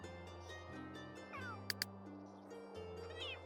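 Cats in the video game The Sims 3 giving a couple of soft meows over steady game music, with a short pair of sharp clicks in the middle.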